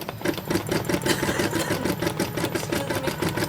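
Janome MC9000 sewing machine stitching an embroidery design, a steady rapid mechanical clatter of needle strokes running continuously and loud, close up, with no talking.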